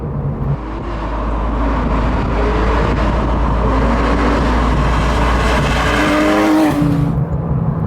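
A Porsche 911 GT3 Touring engine revs hard toward redline, a loud, close, sustained climbing howl through the gears with pitch sweeps and road roar, easing off at the end; no talking.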